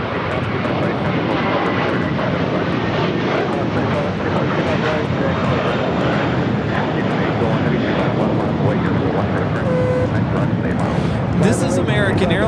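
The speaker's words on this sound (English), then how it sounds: "This is American Airlines 382 taking off to Boston on the A321." An American Airlines Airbus A321 takes off from LAX bound for Boston, its jet engines producing a loud, continuous, rushing roar close by, with a voice talking over it.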